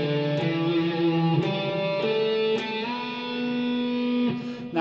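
Distorted electric guitar plays a short lick from a solo, picked notes with a string bend ringing out loud and sustained, alone without other instruments.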